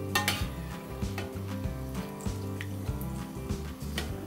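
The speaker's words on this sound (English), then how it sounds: "You just heat up the oil, get it nice and hot, and then fry" Samosas fry in hot oil with a soft, steady sizzle and light crackle, heard alone at a low level.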